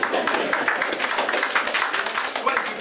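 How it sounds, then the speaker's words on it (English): A room of auction bidders breaks into steady, dense applause, many hands clapping at once at moderate loudness throughout. "he does deserve a round of applause"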